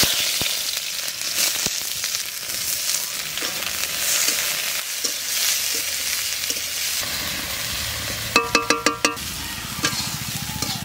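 Onion frying in hot oil with gondhoraj lemon leaves in a kadai gives a steady, close sizzle throughout, with a short run of sharp metallic clinks, like a ladle against the pan, near the end.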